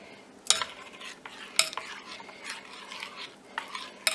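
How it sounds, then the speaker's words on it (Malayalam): A spoon stirs hot jaggery syrup into appam batter in a bowl, giving close scraping and clinking strokes at irregular intervals with a few sharp metallic taps. No one speaks. "എന്നിട്ട് നന്നായി ഇളക്കി കൊടുക്കുക."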